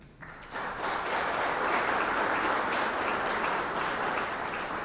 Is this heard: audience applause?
yes